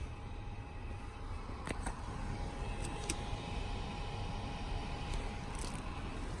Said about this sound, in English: If you listen very closely, you can hear the fan.